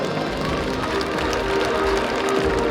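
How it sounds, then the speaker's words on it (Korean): Sustained audience applause fills a large hall at a ceremony marking Kim Dae-jung's 100th birth anniversary, steady and dense throughout as guests enter. "여러분 다시 한번 큰 박수로 맞아주시기 바랍니다"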